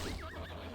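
A horse neighs in the Ultima Online video game, a short, clear whinny that rises and falls over a low steady hum.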